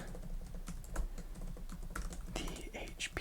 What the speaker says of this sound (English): typing up document on the HP OmniBook